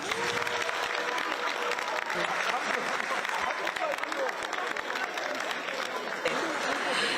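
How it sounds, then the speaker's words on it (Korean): Audience applause for the outgoing party leadership at a Democratic Party convention ceremony, a dense continuous round of clapping with faint crowd murmur and a voice briefly audible underneath. "전임 지도부께도 감사의 박수 부탁드립니다."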